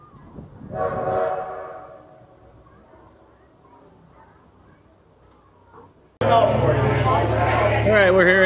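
An 1880s heritage train at Hill City, South Dakota runs with a loud, dense rumble from about six seconds on, after a quieter stretch with a brief swell early on; people talk nearby.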